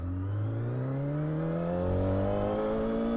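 Honda CBR250RR inline four-cylinder motorcycle engine revs steadily upward, its tone climbing smoothly and continuously at close range and high volume.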